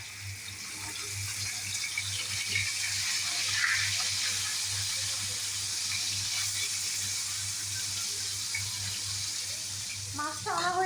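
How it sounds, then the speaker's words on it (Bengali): Tengra fish sizzle in a wok, giving a continuous, even hiss that holds for several seconds, with a brief voice breaking in near the end. "মাছটা আমি দিয়ে নিই কড়াইতে"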